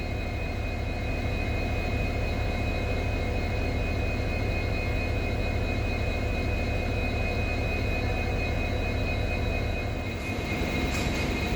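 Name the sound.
banker locomotives being attached at rear of train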